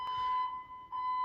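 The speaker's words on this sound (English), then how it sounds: "Fire alarm number 4" Household fire alarm sounds a steady, piercing high tone that briefly dips before resuming, loud and close with no voices.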